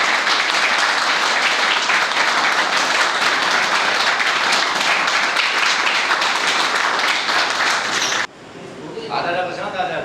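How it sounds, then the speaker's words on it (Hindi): Audience at an Independence Day event giving loud, dense applause for about eight seconds, sustained and close, before it cuts off abruptly and a voice starts speaking. "तो एक बार सारे जोरदार तालियों से"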